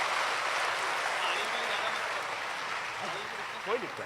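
Sustained applause from an audience at a comedy gathering, dense and steady throughout, with a voice speaking faintly beneath the clapping near the end.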